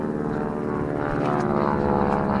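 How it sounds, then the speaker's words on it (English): A small propeller plane, the kind that tows banners near an airport, drones overhead, a steady loud buzzing engine tone with strong harmonics throughout and no talking. "So there's a plane, and they usually pull banners behind them"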